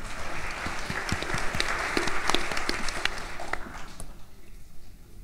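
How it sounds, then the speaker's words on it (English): An audience claps steadily for several seconds at a panel event, a dense patter of hands in a room that thins and fades toward the end. "give yourselves a round of applause"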